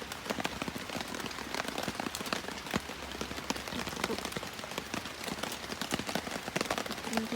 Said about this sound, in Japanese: まだ雨降り 始めって感じなんですけど、これから来ると思います。